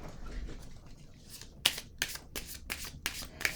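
A deck of playing cards being shuffled up close, several quick crisp riffle bursts in an uneven rhythm after a quiet start, fairly soft with no talking.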